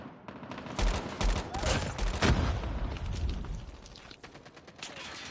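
M16 rifle gunfire in a first-person shooter video game, with rapid loud bursts of shots and booms crackling in a dense, continuous barrage.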